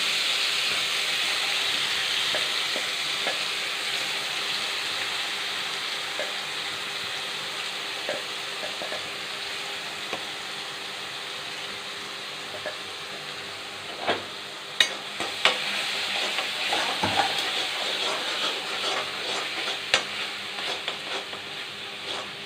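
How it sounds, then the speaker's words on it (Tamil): Mustard seeds splutter and crackle in hot oil, a steady frying hiss dotted with sharp pops that grow busier toward the end, with no voices. "கடுகு பொரியுது."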